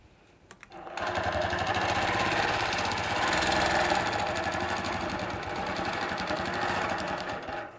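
A quilting sewing machine stitches an S-curve border along a template with a loud, continuous motor whir and rapid needle chatter. It starts after a few soft clicks and keeps running steadily to the end.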